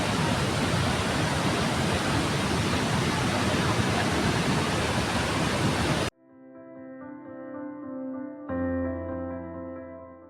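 Flooded mountain river near Munsiyari rushing after washing away a bridge, a loud, dense, unbroken roar of water for about six seconds, then cut off abruptly as music takes over.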